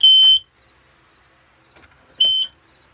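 Two short electronic horn blasts from a fire alarm system under test, each a loud, high, buzzy tone about half a second long, about two seconds apart, with quiet between.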